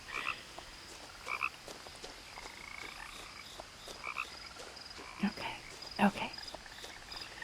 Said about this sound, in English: I want to see a frog. They're so loud